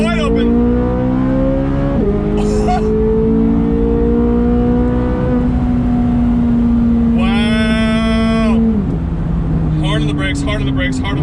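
A Corvette C8 Z06 engine roars at full throttle on a track, loud and close, its pitch climbing steadily with sharp shifts between gears, and brief high whines and squeals breaking in.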